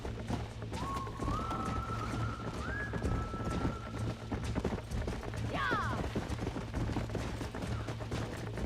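Horse hooves clip-clop steadily on the ground during horse taming in Red Dead Redemption, with a couple of whinnies rising over the rhythmic steps at moderate distance.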